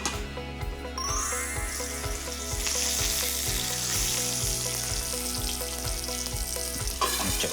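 Food sizzles steadily in a hot, covered frying pan over medium to medium-low heat, a constant crackling hiss that stays loud and even throughout, with a rhythmic low thumping beneath.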